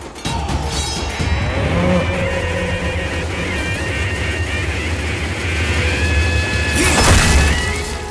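A buffalo brought for sacrifice before a crowd of villagers at a goddess ceremony in an Indian action film scene, lowing in long, loud moos over a busy, dense background.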